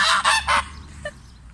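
Geese in a vegetable garden give three loud, close honks in quick succession, followed by a fainter call and quiet background.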